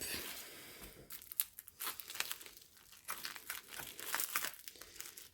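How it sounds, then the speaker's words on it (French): Packaging of a diamond painting kit being unwrapped, with close, faint bursts of crinkling and tearing plastic arriving in irregular clusters and brief pauses, no talking. "on va déballer par contre, il est bien emballé"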